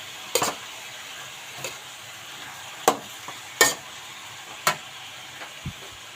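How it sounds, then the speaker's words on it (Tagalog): Bean sprouts (toge) fry in a pan as a spoon stirs them, sending a faint sizzle under several sharp, scraping strokes spread unevenly across the clip, close and alone. "Ayan, haluin natin."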